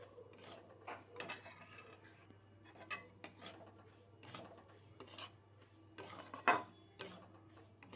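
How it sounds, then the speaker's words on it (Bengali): Suji halwa in the making: semolina is stirred and fried in butter in a pan, with a spoon scraping the metal in faint, scattered strokes and small clinks, and no talking. "বাটার দিয়ে ভালো করে সুজিটাকে ভেজে নেব"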